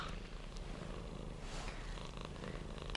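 A cat purrs steadily and close up, a continuous low rumbling texture filling the short stretch with no voices.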